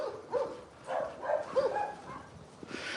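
A dog in rural Russia giving a few short, fairly quiet barks and yips from some distance, spaced out over a soft outdoor background.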